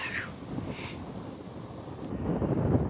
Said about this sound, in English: it's just this continuous cold wind, like 20 knots in your face